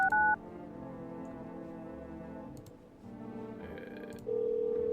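Phone keypad dialing in a video game, a few clear touch-tone beeps at the start and end with quieter musical background tones between, no voices.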